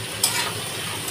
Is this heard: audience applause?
no